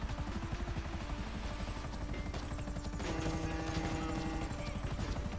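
A helicopter in the video game GTA 5 keeps up a steady, loud, rhythmic rotor thump and engine whine throughout, with game sounds layered over it.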